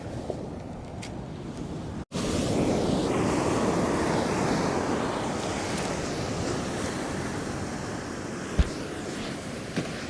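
Small ocean waves wash steadily onto a Pacific shore on a calm, windless day, a continuous broadband surf rush that starts after a brief gap and holds at a fairly loud, even level with no talking.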